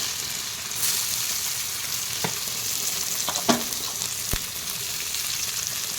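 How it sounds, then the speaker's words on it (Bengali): Onions sizzle in a pan of melted sugar with bay leaves, a steady close frying hiss broken by a few sharp spatula scrapes and stirring clinks, with no talking. "এবারে এতে পেঁয়াজটা দিয়ে দেবো।"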